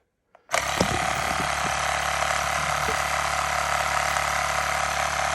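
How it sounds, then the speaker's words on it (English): An electric BMX air pump refilling a bicycle tire to 35 psi runs with a steady, loud mechanical drone that starts abruptly after a brief click and holds without pause. "BMX air pump to refill this tire"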